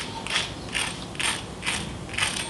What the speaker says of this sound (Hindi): मैं आपको इसको टेस्ट करा के दिखा देती हूँ कि कितनी कुरकुरी बनती है।